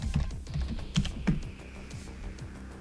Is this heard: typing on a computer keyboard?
yes